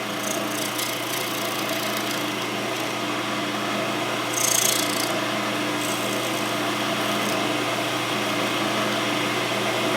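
A wood lathe spins a pen blank while a skew chisel shaves it, giving a steady close motor hum with continuous cutting noise and a brief louder scrape partway through, with no talking.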